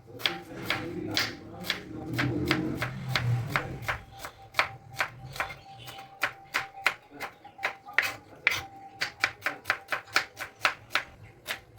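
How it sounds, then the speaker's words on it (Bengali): Onions being finely chopped with a knife on a board for biryani, a rapid run of sharp, regular taps that grows quicker and more even, close and clear after some low background murmur at the start. "পেঁয়াজগুলো এবার কেটে নিই। হ্যাঁ ছোট ছোট করে কুচিয়ে নাও।"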